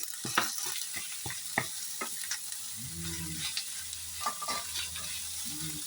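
Ground meat (giniling) frying in a pan for guisado, with a steady sizzle under repeated scraping stirs from a utensil, close and fairly loud, without talk.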